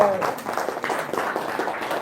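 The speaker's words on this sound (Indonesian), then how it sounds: "Tepuk tangan." An audience at a religious talk claps in a short burst of applause, the patter of many hands fairly close and steady, with a little talk mixed in.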